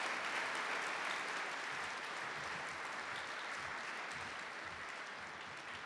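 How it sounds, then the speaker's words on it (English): An audience at a senior student-athlete reception gives a round of applause for senior baseball players, with sustained, even clapping across the room that fades slightly toward the end. "Let's give them a big round of applause."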